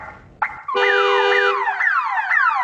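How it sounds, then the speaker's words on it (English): A car alarm blares nearby, cycling through repeated rising whoops and warbling tones after a brief quieter start, loud and insistent. "That's my car alarm."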